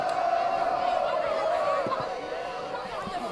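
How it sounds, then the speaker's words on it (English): Crowd at a high school football game between Walpole and Wellesley, a steady roar of chatter and cheering from the stands under a commentator's voice, fairly loud and continuous throughout. "Crowd making some noise."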